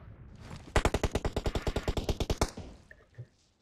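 A loud, close burst of automatic gunfire in PUBG Mobile, about fifteen sharp, evenly spaced shots fired in quick rhythm over two seconds, followed by quieter game sounds.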